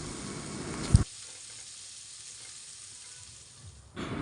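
Beef shashlik kebab pieces sprinkled with spices fry in a pan, a soft sizzle that drops quieter after a sharp clatter near the start, then swells again at the end.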